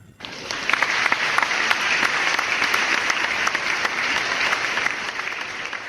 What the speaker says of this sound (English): Let us give her a big round of applause